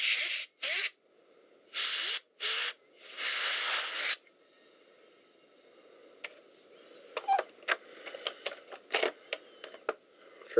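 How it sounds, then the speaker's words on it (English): Compressed air blasts into the vents of a Sager D7TW laptop under repair in five loud, hissing bursts close by, followed by quieter clicks and handling noises. "Let's blow out the vents."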